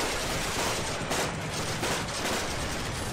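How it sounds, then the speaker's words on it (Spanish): A muffled volley of rifle fire, heard as if from underwater, rolls on as a dense continuous rumble with repeated dull bursts, loud and alone throughout. "Oyó el trueno amortiguado de la descarga de fusilería."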